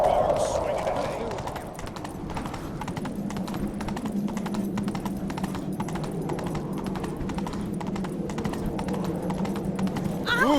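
A horse gallops in The Witcher 3 with steady rhythmic hoofbeats under constant game sound, continuing for the whole stretch.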